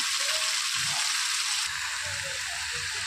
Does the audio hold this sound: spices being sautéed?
yes